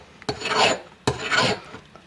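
A hand file rasps across a soft aluminum jet ski piston in two long, even strokes with a pause between them, close and fairly loud, with no voices.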